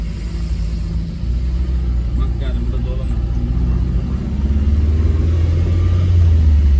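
A Tofaş car engine revs with exhaust rumble, a low steady drone that swells louder toward the end, with people talking over it.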